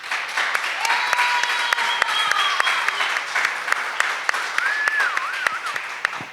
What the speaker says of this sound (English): Let's give another round of applause for Puerto Rock.